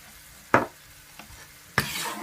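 Two short scraping strokes of a spoon stirring a brown sugar, cinnamon and heavy cream mixture, with a faint tap between them and a soft sizzle after the second stroke.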